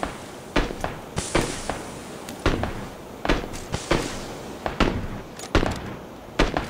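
Video game gunfire, a series of loud, close, sharp shots in uneven bursts, each with a short rumbling tail, and no talking over them.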